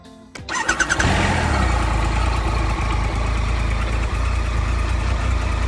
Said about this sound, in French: On va procéder au premier démarrage.